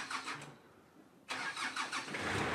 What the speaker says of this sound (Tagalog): Sige, Kuya Larry, pakipaandarin daw po yung jeep natin.